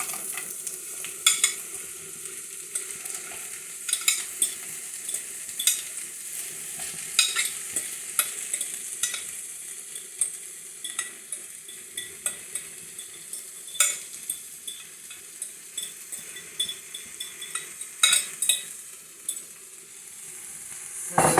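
Vegetables being stir-fried in an open pan, a continuous light sizzle under repeated sharp clinks and scrapes of a utensil against the pan, close and fairly quiet with a few louder knocks.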